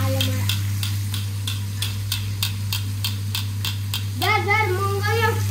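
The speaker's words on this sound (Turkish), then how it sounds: "Hamsi koydum tavaya." Anchovies frying in a pan in a home kitchen, a continuous sizzle with rhythmic stirring pulses over a steady low electrical hum, close by, with someone talking near the end.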